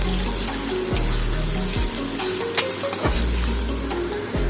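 Chopped onion frying in hot white oil with cinnamon, cloves and cardamom for a palak chicken, a steady close sizzle with occasional stirring scrapes and a low hum throughout, no talking.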